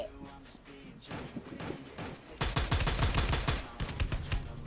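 Rapid gunfire in the mobile battle royale game Free Fire, scattered shots at first, then dense bursts of automatic fire crowding close together and loud, ending in a few spaced shots.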